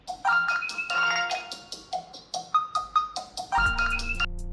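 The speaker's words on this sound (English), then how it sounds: "Choose your favorite ringtone." A ringtone plays from a Realme phone, a bright melodic chime with layered tones in a steady rhythmic pattern, fairly clear and close, ending on a low sustained note with no talking.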